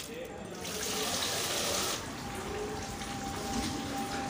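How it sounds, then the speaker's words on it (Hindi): Water pours from a tap over chopped cabbage, cucumber and potato in a basket, a steady splashing rush that swells for about a second and then settles into a continuous flow. "थोड़ा सा पानी शामिल करेंगे ऊपर, ताकि जो आलू का जो स्टिकी पान है वो थोड़ा दूर हो जाए।"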